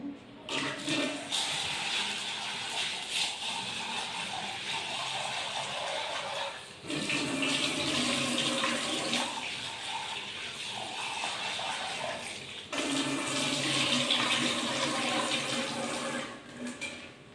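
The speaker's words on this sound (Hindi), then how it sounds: "ये जी तकरीबन आधा किलो दाल है, इससे पहले मैं वॉश कर लूँ।" About half a kilo of lentils being washed before cooking: loud, steady running water and splashing that continues through the whole stretch in three long bursts separated by brief dips, with no voices.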